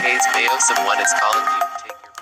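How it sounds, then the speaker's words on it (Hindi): A custom name ringtone plays on a mobile phone, a bright melodic tone sequence with a sung or synthetic voice-like quality, steady and fairly loud throughout. "सेव होने के बाद आपके पास यहाँ पे ये रिंगटोन मौजूद है"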